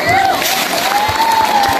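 Applause and cheering from a school crowd at a junior high student council candidates' debate, greeting the two candidates Amanda and Dina. Steady, dense clapping with crowd noise fills the whole stretch, and a thin sustained tone runs above it.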